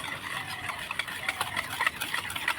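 A hand whisk beats semolina batter with two spoons of white oil in a bowl, giving quick, steady rhythmic ticking and clicking strokes up close.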